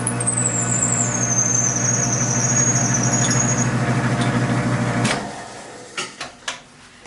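A reamer cuts the chamber in a prototype 50 BMG rifle barrel, plunged by hand 100 thou at a pass, giving a steady machining drone with a high squeal gliding downward, then the cut stops and a few clunks follow.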